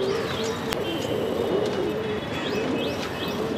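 Madrasi pigeons coo continuously in soft, rolling calls at a pigeon market in Andheri West, Mumbai, with occasional sharper chirps and faint background noise throughout.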